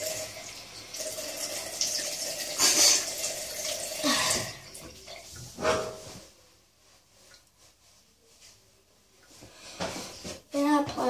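Water runs from a bathroom sink tap during face washing, a steady splashing hiss that fades out midway, with small clinks and handling sounds near the end.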